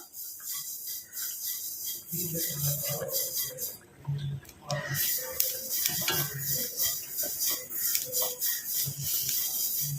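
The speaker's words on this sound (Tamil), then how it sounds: "இப்போ இதை நல்லா நம்ம ஃப்ரை பண்ணி எடுக்க போகிறோம் நல்லா பிளாக்காக சேஞ்ச் ஆகிற வரைக்கும் நம்ம இதை வந்து நல்லா ஃப்ரை பண்ணி எடுத்துக்கலாம்" A single hair-dye ingredient fries in a pan while being stirred, a close, continuous scraping and rasping with faint sizzle throughout, no speech.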